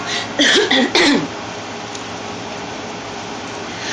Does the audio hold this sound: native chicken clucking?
no